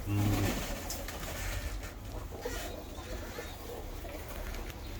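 Small ornamental pigeons coo and murmur steadily close by, with faint clucking and rustling in the background; no talking.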